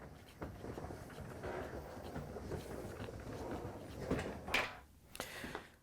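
A Frigidaire dishwasher is slid out of its kitchen cabinet with a continuous low scraping and rumbling drag, with a few knocks and thumps near the end.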